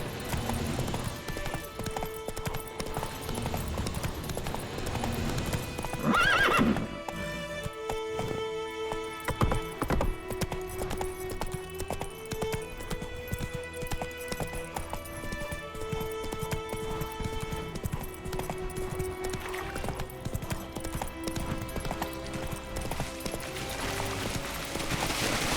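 Horse hooves clip-clop at a run in The Witcher 3 video game, a steady close rhythm under a dense orchestral game score, with a short neigh partway through.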